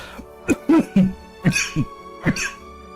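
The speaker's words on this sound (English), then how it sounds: "I'm gonna be coughing a fair bit for the beginning of this." A series of short, harsh coughs and throat-clearing bursts, close to the microphone, spaced irregularly over a few seconds.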